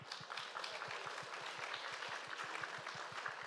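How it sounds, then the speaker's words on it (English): An audience claps for a guest at a Northern Ireland emerging leaders event, steady mid-distance applause from many hands that runs evenly and fairly softly throughout. "Give me a round of applause for Siobhan"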